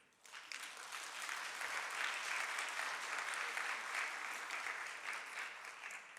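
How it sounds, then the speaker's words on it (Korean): A church congregation applauding to encourage new leaders, a broad, even wash of many hands clapping that swells in after a soft start and holds steady, moderately distant. "우리 임리더들에게 응원의 박수 부탁드립니다"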